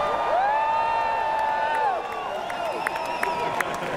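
A huge crowd gathered in the streets of London at a march against antisemitism in Whitehall, with loud continuous murmur, scattered whoops, cheers and claps, and a steady crowd roar throughout.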